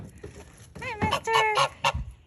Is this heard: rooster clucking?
yes